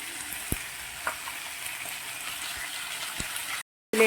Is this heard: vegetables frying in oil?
yes